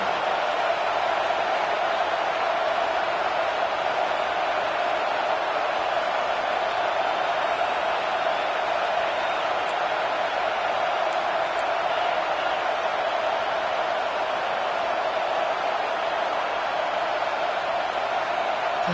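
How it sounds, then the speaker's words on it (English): A steady, loud stadium crowd roars at a college football game, Oregon at UCLA, in a constant wash of noise with no breaks, and occasional faint cheers rise out of it. "with this place rocking, the crowd forces a false start"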